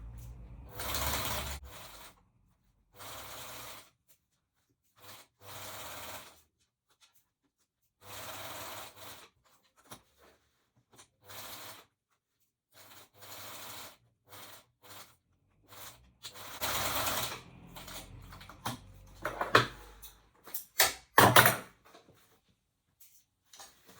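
Sewing machine stitching a fabric drawstring bag, running in repeated short whirring bursts separated by pauses, with a few sharper mechanical clicks near the end; close and fairly loud, no talking.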